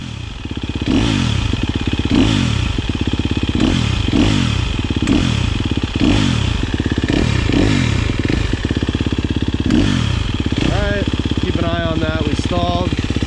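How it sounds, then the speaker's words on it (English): KTM dirt bike ripping through sand on a test ride after a repair: loud, close two-stroke-style engine revving up and down in repeated surges, with a clattering rasp and a voice heard briefly over the engine. "Here we are, just ripping some sand, testing out the KTM."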